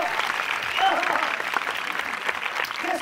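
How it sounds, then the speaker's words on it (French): A theatre audience at a live comedy tribute performance claps steadily and densely throughout, a sustained wash of applause with a faint murmur of voices mixed in. "Les gens rient et vous applaudissent."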